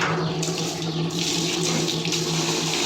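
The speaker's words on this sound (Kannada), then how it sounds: "ಇಲ್ಲಿ ಕೆಳಗಡೆ ಇದೆ ನೀರು ಬಿಟ್ಟು ಇದನ್ನು ಕ್ಲೀನ್ ಮಾಡಿಕೊಳ್ತೇವೆ" Water runs steadily from a tap to rinse a vessel, giving a continuous close splashing rush with slight surges, and no voices.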